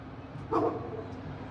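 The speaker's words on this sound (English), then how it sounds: "Got a very loud and mean sounding doggy." A loud, mean-sounding dog barks once, a short harsh burst over steady outdoor background noise near an old cemetery.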